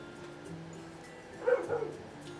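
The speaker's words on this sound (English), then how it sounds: "My dog is going crazy, so we'll just wait." A dog barks and yips a couple of times in quick succession, faint and somewhat distant in a quiet indoor room.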